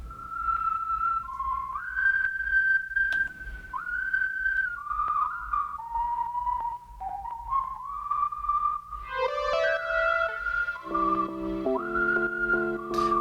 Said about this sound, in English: let me do the whistle